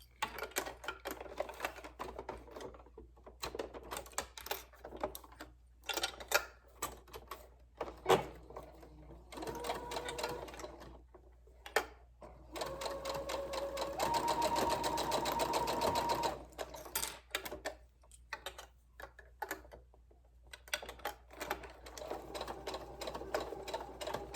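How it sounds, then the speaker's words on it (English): A sewing machine runs in bursts of rapid mechanical stitching, separated by short pauses and small handling clicks, with one longer continuous run midway. "we are ready to head to the sewing machine"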